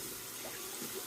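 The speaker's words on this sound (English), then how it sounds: "I'm gonna wet the razor now" Tap water runs in a steady, close hiss as a Hoffritz slant safety razor is wetted before a shave, lasting only a brief moment with no talking.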